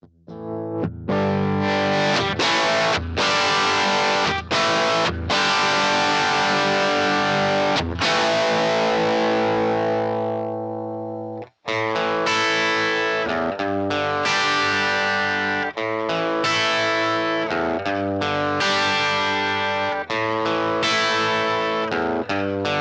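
A heavily distorted electric guitar through a cranked 1963 Fender Tremolux tube amp, all controls on 10, plays loud saturated chords and riffs, with a brief cutoff near the middle before the crunchy playing resumes.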